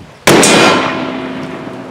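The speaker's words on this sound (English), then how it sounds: "That is a cool, cool homemade gun, Steve." A single loud, close gunshot from a homemade K Z Belcher black powder pistol, a sharp crack followed by a long, slowly fading roar and ringing echo outdoors.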